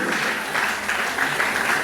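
Applause at a charity gala for a parish in the Democratic Republic of Congo, a continuous crowd clapping that fills the room at an even, fairly loud level for a short stretch.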